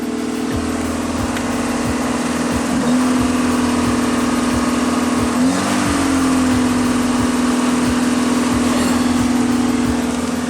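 A 1984 Pontiac Fiero engine idles high at about 2,500 RPM while warming up, a steady, loud, close drone with a slight rhythmic pulse and two brief pitch dips partway through.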